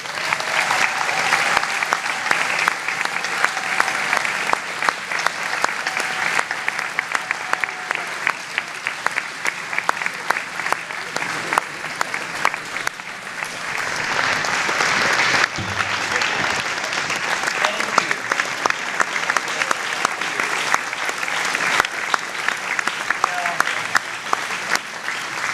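Sustained applause from a banquet audience at a USCAA national meeting, welcoming guest speaker Jim Ryun; steady, dense clapping from a large room holds for the whole stretch with a brief dip midway before swelling again.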